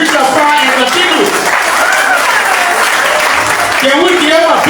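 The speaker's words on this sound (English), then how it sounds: "Can we give a big hand of applause to the mayor?" Audience applause for the mayor at a groundbreaking ceremony for the electrification of Bentol City: dense, sustained clapping from a crowd, steady throughout, with a voice speaking over it.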